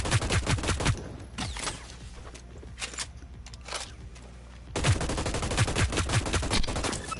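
Gunfire crackles in the shooter Hyper Scape, with dense rapid bursts of close shots, a thinner stretch of scattered pops in the middle, then a second sustained volley.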